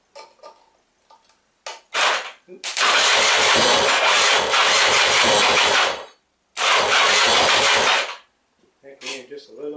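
A Polaris Scrambler ATV engine starting for the first time: two loud bursts of rough, rapidly pulsing running and cranking, then cutting out, with short talk and clatter before and after.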